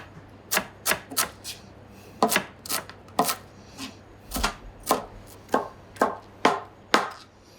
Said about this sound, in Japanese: 小口切りですね。